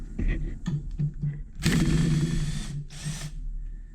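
A power drill backs screws out of a 3-inch lathe faceplate in a woodshop, with soft handling clicks, then two close bursts of whirring drill, the first longer than the second.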